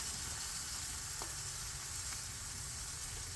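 Oil heating on a Blackstone flat-top griddle on a low setting gives a faint, steady hissing sizzle, even and continuous throughout, with a tiny tick or two and no talking.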